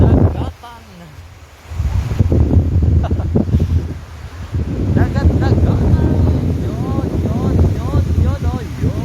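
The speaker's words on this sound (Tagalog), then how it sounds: "Very windy ngayon guys." Strong gusty wind at the seaside buffets the microphone in a steady loud rush, with surf noise underneath and a voice talking over it through most of the stretch.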